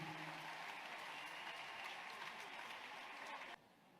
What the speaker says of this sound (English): Let somebody clap for the woman.